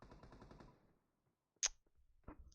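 Gunfire in PUBG: a rapid burst of shots at the start fades out, followed after a pause by a single loud sharp shot and a fainter later report.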